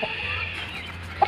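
A hen gives a short, soft cluck close by, followed by a brief sharper note.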